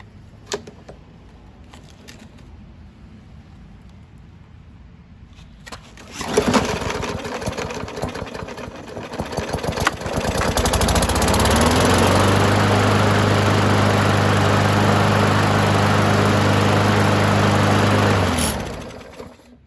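A 2016 Murray lawn mower, once left as scrap and now fitted with a new blade, starts up and runs steadily and loudly, with a buzzing drone that holds for several seconds before cutting off.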